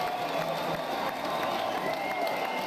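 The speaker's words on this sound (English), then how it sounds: "Let me turn down the applause." A canned applause and cheering effect plays on a late-night-style talk show, a dense continuous crowd roar held at steady loudness throughout.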